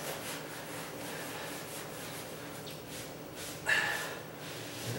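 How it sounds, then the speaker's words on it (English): A sponge rubs and wipes excess stain off a wooden floor, soft repeated swishing strokes close by, with a slightly sharper scrape near the end, and no talking. "Now I can wipe off some of that excess."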